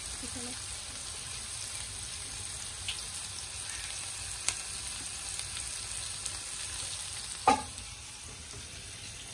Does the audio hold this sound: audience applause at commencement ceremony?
no